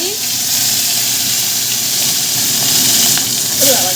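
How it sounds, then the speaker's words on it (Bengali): Fish frying in hot oil gives a steady, close, broadband sizzling hiss that runs unbroken from start to finish, with a slight swell near the end. "তেল গরম হয়ে গেছে চলো মাছটা ভেজে"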